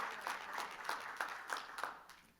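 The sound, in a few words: church congregation applauding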